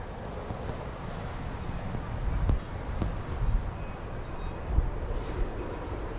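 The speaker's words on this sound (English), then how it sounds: "wind blowing the snow" Wind gusting and blowing snow outdoors before a winter storm, a broad low rumble of buffeting air on the microphone with swelling gusts throughout, no clear talking.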